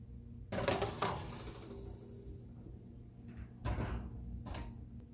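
A cast iron pan holding a ribeye steak slides into an oven preheated to 300 degrees, giving a close metallic clunk and scrape, followed by a quieter thump and a door closing.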